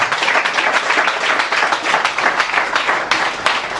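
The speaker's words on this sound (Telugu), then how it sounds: "గట్టిగా చప్పట్లు కొట్టి దేవుడు మరి మేము పడుతాం" A church congregation clapping loudly during a Sunday morning service, a dense, rhythmic burst of many hands clapping together close by, steady throughout.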